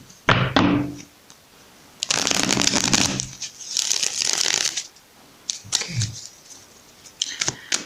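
Oracle cards are shuffled up close in several bursts: crisp riffling flutters separated by brief pauses and soft taps as the deck is squared.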